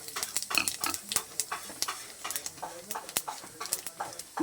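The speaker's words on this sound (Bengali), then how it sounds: "এবারে আমি ফোড়নের জন্য একটু সাদা জিরা দিয়ে দেব" White cumin seeds dropped into hot oil for tempering an egg curry, crackling and popping in irregular bursts with spoon scrapes, close by and fairly quiet.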